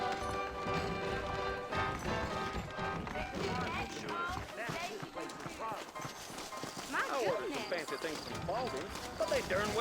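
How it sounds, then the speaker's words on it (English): Horses clip-clop along a trail in Red Dead Redemption, a steady rhythmic hoof patter under people talking and background music. "I got the horses saddled up and ready out front."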